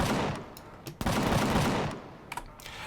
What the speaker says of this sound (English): And that is an auto turret. It will shoot at anything that threatens us.